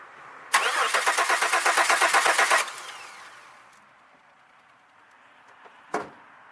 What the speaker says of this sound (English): She jumped.